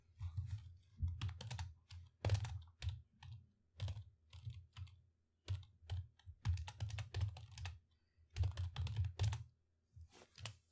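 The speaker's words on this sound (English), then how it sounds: "Oh, you can actually type a message." Someone types a message on a computer keyboard while playing the horror game Five Nights at Candy's 2, producing bursts of close, quiet key clicks in irregular rhythm, separated by short pauses.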